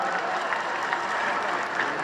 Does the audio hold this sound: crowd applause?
yes